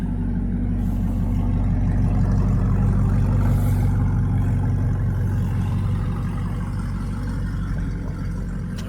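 A 2015 Audi R8 engine running, a deep steady low rumble with a throaty tone that holds at a constant loud level throughout, close by, with no voices.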